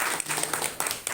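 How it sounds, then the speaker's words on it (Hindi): Audience applause at a village meeting in Bhatpura, Hathras, a steady wash of many hands clapping together, fairly close and sustained with small bursts throughout. "मेरे जो गुरु बैठे हैं राजकुमार सर जी, जिनके लिए जोरदार तालियां हो जाए।"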